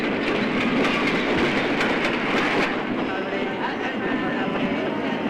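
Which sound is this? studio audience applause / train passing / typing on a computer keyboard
train passing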